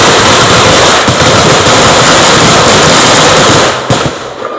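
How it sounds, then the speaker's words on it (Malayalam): A string of firecrackers bursting in a dense, loud, continuous crackle of rapid pops, close up, fading out at the end. "വെടി കഴിഞ്ഞപ്പോഴേക്കും ഇതാ ടപ്പേന്ന് പറഞ്ഞ് മാലപ്പടക്കം പൊട്ടി"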